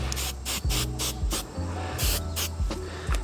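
Tresemme Extra Hold hairspray is spritzed onto a motorcycle handlebar, a quick series of about eight short, sharp hissing bursts in an uneven rhythm, close and fairly loud over a low hum, with no talk.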